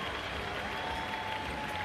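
Steady applause from an audience at a STIHL Timbersports team world championship, a dense even wash of clapping at moderate distance lasting a couple of seconds.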